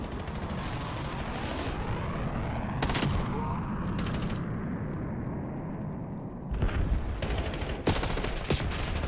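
A player fires a gun in a video game: rapid bursts of sharp shots crackle and rattle loudly over a busy, noisy background, with heavier bursts late in the sequence.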